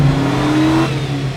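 A car engine revs hard up the range in a single rising sweep and then eases off, loud and close with no voices.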